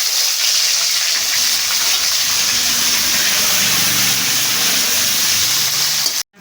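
Chopped onions sizzling in hot oil in a pan while making murli (sankar) fish curry, a steady loud hiss of frying that runs unbroken throughout, with a faint low rumble beneath.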